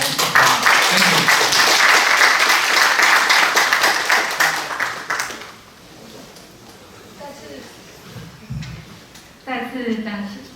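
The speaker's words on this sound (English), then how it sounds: "Please give applause again." An audience at an academic sports physiology and fitness conference applauds after a keynote talk, loud sustained clapping for about five seconds that fades to a quieter room where a voice speaks over scattered noise.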